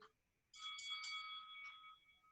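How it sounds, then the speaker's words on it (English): A workout timer bell marks the start of a boxing round with one sustained ring that fades away, fairly quiet against a near-silent background. "You'll hear that bell."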